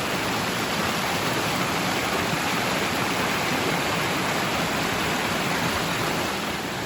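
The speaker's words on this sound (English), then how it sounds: "We're not quite to Jarrett Falls, but the water is roaring." Rushing water roars steadily and loudly along a hiking trail near Jarrett Falls in south central Pennsylvania, a dense, unbroken wash of noise with no voices.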